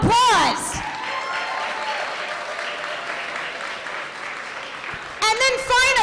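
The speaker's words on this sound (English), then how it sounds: "give yourselves a round of applause" An audience at a San Antonio youth forum claps loudly for a few seconds, then the clapping fades beneath a speaker's voice before another burst of applause rises near the end.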